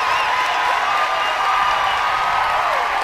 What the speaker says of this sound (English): And the crowd taking over again.